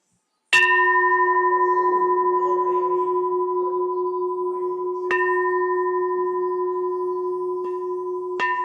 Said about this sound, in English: And I forgot to ring the bell, so let me do that now.